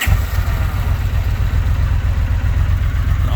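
A 1983 Honda CX650c motorcycle engine idling warm just after starting, a loud close steady low throb with an even pulsing rhythm and nothing else over it.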